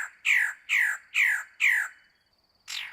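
Magnificent bird of paradise (Cicinnurus magnificus) male in breeding season gives four loud, harsh squawking calls in a steady series, then a pause and a fifth call, close and clear with no other sounds.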